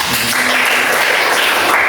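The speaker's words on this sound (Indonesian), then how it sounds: "Beri tepuk tangan dulu kepada Iqbal." Classroom applause from students during a teaching practice lesson, a short dense burst of clapping that stays steady and fairly loud for about two seconds with no talking.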